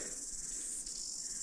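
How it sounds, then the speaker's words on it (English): Steady, high-pitched insect buzzing of summer cicadas in a pine-wooded bay fills the air continuously, a dense shimmering drone with faint low rumble beneath. "crickets or cicadas? Cicadas."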